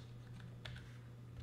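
Faint computer keyboard typing of a telnet command at a network PC, a quick patter of soft key clicks with one sharper tap midway, quiet and without talk.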